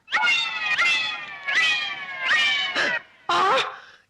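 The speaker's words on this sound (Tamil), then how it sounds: "நான் குடிக்க வேண்டிய பாலை பூனை குடிச்சுக்கிட்டு இருக்கு" A cat lapping up milk lets out five loud, close meows, each drawn out and slightly whiny, separated by short pauses.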